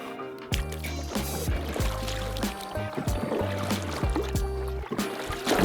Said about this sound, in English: Baby's first paddle strokes